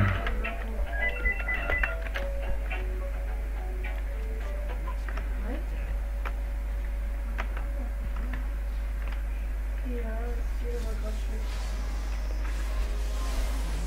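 A telephone ringing during a German-language video game session, with repeated electronic tones running under continuous speech from a player.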